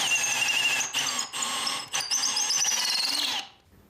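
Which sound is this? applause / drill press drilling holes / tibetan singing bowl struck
drill press drilling holes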